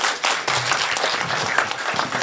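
An audience applauds at a Hindi poetry recital, a brief, steady patter of clapping from a small crowd filling the whole moment without any speech.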